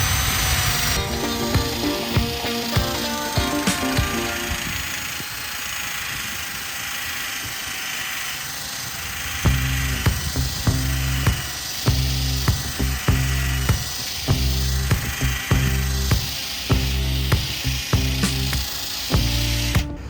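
A power tool sanding glass whirs steadily and close, its motor buzzing in rapid rhythmic pulses as it grinds against the hard surface at low speed, with no talking.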